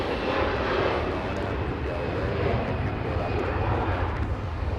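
Airliner arriving at Los Angeles International Airport, a steady broadband jet roar that holds loud and continuous throughout, with no break in the engine noise.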